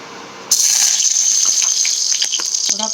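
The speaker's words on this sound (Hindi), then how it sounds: "सरसों का तेल डाला मैंने" Mustard oil sizzling in a hot kadai, a steady bright hiss that starts abruptly and continues loud and close, with small crackles scattered through it.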